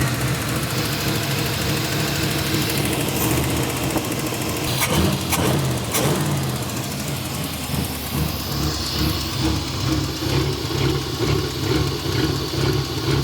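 A Pontiac Phoenix engine that sat for over 20 years idles high with a choppy, loud rumble close by, holding steady throughout with a few brief clanks and no talk.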